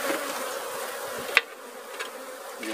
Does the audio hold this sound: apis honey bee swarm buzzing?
yes